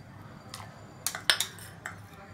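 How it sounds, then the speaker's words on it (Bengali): A utensil clinks against a bowl several times in irregular strokes while poppy seed paste is mixed with egg and milk, soft and close with quiet gaps between the taps. "পোস্তটা ডিমের সঙ্গে আর দুধের সঙ্গে ভালো করে মিক্সড করে নেব"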